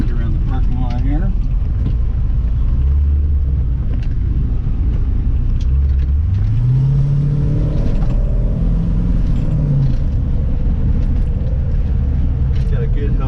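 A 1934 Chevrolet Cabriolet with a 350 engine on the move, low engine rumble rising and falling as it accelerates and revs, loud and close throughout.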